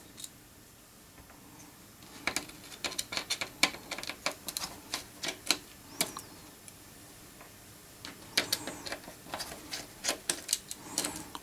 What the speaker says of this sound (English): We will remove all these screws.